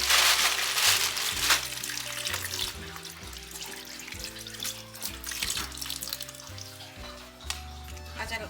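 Squid being washed under a running tap at a kitchen sink, with steady splashing water, rubbing and clattering handling sounds close up and no one talking.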